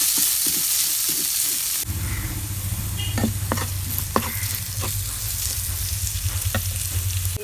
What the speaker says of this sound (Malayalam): അതും നന്നായിട്ടൊന്ന് വഴറ്റി കൊടുക്കാം.